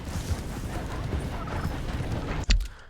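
Horse hooves in the video game Red Dead Redemption 2 clip-clop in a steady rhythm under game ambience, with a sharp, loud thud near the end.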